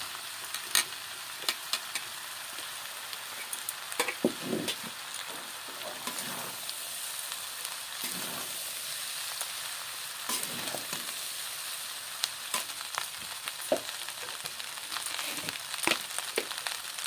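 Rice being stir-fried with mixed vegetables and shrimp in a pan, a steady soft sizzle broken by repeated scraping and stirring clatters of the spatula, close and fairly quiet, with no talk.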